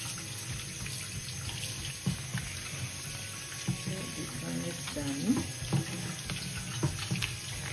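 Raw crabs washed under a running kitchen tap for a Sri Lankan crab curry, a steady stream of water with wet splashes and sharp clatters of shells being handled, close and continuous.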